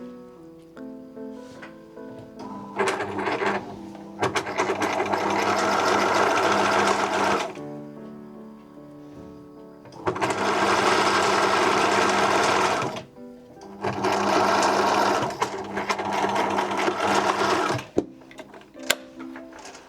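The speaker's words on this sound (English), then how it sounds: "I'm going to top stitch it with the twin needle." A sewing machine top stitching a folded hem with a twin needle while making underwear, running in three loud sustained bursts of rapid stitching separated by short pauses and quieter handling sounds.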